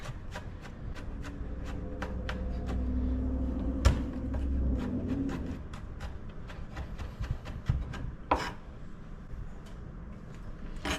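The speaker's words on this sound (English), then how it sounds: "We're going to start by chopping some garlic." A knife chops two heads of garlic on a board in a steady series of sharp taps, close by, with a low hum underneath and no talking.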